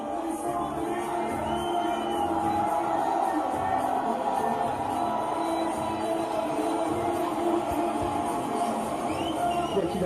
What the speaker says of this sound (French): On va tenter de jauger à l'applaudimètre avec la rentrée de Rico.